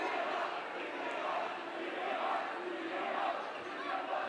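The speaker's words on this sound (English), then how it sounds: "the Lehi crowd is chanting, tee him up" A high school boys basketball crowd in the Lehi gym chants in rhythmic unison, a loud, dense roar of many voices rising and falling in repeated phrases.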